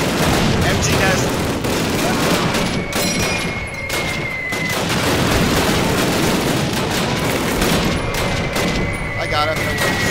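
A machine gun nest fires in Call of Duty amid a loud battle, sustained automatic bursts and booms layered with other gunfire while voices shout over the din.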